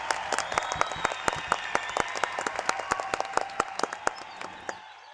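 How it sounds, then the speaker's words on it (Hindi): An audience in a Hindi police comedy show breaks into applause, a dense patter of sharp claps from many hands that runs steadily for several seconds before cutting off abruptly. "मिसेस गुलाटी के लिए एक बार तालियां"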